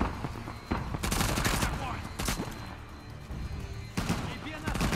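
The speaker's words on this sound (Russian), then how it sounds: "И обстрел, по-моему, ведут они не только сверху, но откуда-то еще и снизу." Bursts of video game gunfire crack out in a shootout, loud rapid volleys around the one-second mark and again near four seconds, with shots sounding from several directions under a speaking voice.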